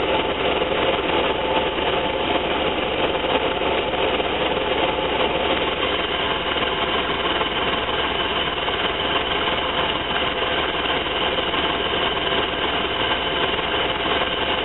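A van engine idles steadily for the full length with a slight roughness, a continuous close mechanical drone with faint irregular ticking and no voices.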